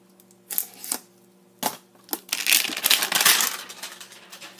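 A 1997-98 Donruss Preferred hockey card pack wrapper being unwrapped up close: a few sharp crinkling bursts, then a louder, sustained rustle of plastic through the final second and a half.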